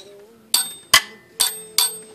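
The bell of a Smith Corona electric typewriter being serviced rings four times in quick succession, each a bright close metallic ding fading fast over a faint motor hum.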